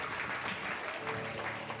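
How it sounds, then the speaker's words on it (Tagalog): Church congregation applauding for the Lord during a service in Tondo, a steady dense clapping that fills the whole moment, fairly close and even in loudness with no voices over it. "isang malakas na palakpak para kay Lord"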